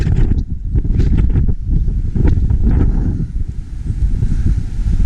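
Strong wind buffets the microphone in continuous loud low roaring gusts, with a faint rushing hiss over it throughout, while climbing outdoors in the Czech Republic.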